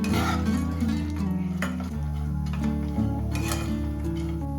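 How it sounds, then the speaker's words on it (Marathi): Cashews and almonds roast in ghee in a hot kadhai for carrot halwa made with jaggery, a soft sizzle mixed with repeated stirring scrapes and light pan clinks, backed by a steady tonal hum. "काजू आणि बदाम हे तुपात चांगले भाजून घ्यायचे"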